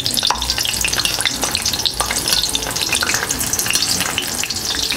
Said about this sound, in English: I'm going to take some of this hot oil and I'm going to spoon over that